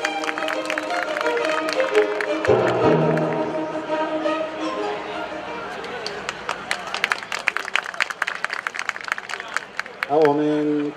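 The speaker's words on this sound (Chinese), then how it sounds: "掌声鼓励。" An audience applauds at a Kaohsiung police department ceremony celebrating Police Day, with dense scattered clapping building over a loud amplified voice and crowd noise.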